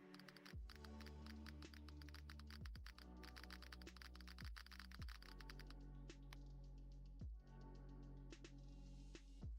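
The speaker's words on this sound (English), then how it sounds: "Can you guys hear this typing sound?" Typing on a computer keyboard, a fast, dense run of key clicks heard quietly under a steady low droning tone.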